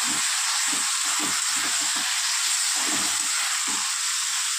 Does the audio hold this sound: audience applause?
no